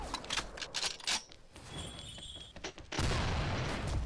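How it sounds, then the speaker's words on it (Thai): XSHOT toy foam blaster firing in a run of sharp pops and clicks over about three seconds, followed by a louder steady rushing noise. "ผมยิงไม่โดน"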